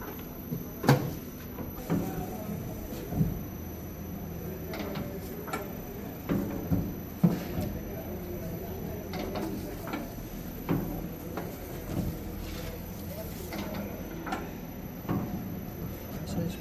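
Automatic soap stamping machine running on trial, giving irregular mechanical thuds and clacks spaced a second or two apart over a low steady hum, with a constant high whine present.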